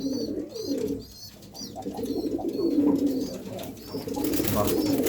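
Pigeons coo repeatedly in low, throaty rolling calls, close by, with a few faint higher chirps overhead and no talking.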